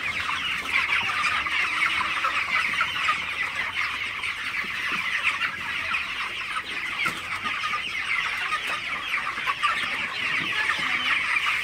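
Broiler chickens cluck steadily and continuously inside a chicken house, a dense flock murmur filling the space without pause, fairly loud and close, with no voices.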